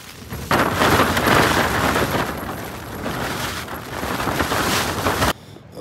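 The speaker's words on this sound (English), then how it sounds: "The wind's just coming and gone, just coming in big gusts." Strong gale-force gusts buffet and roar against a Hilleberg Soulo tent close to the microphone, surging loudly for several seconds before dropping off abruptly.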